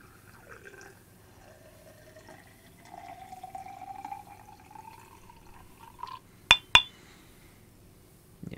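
Onigoroshi sake is poured from a bottle into a glass: a thin, rising trickle of liquid filling the glass over several seconds, followed by two sharp clinks of glass, all fairly close and quiet, with no talking.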